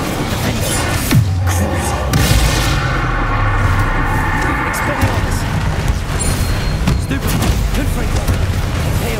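A fire spell cast in the fantasy video game Hogwarts Legacy during a troll battle, with dense, booming blasts and crackling bursts running throughout at steady high loudness, mixed with other game combat noise.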